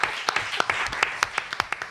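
Studio audience applause for a contestant on the French game show Burger Quiz: brisk, scattered clapping with sharp individual claps, steady for about two seconds and fairly close.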